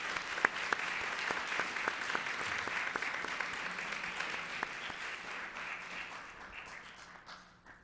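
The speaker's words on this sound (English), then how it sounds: "Let's give our panelists a big round of applause." An audience at an annual women's forum applauds its panelists, a steady dense clapping that holds for several seconds and then tapers off toward the end, fairly distant and even.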